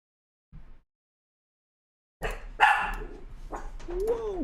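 Puppy barking nearby in a room, one short faint bark, then a couple of seconds of silence and a burst of louder, closer barks and yips.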